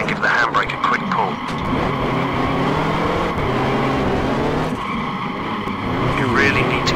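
Rally car in Richard Burns Rally sliding through a handbrake turn at a hairpin, a continuous loud engine roar with tyre skidding throughout, while a voice talks over it.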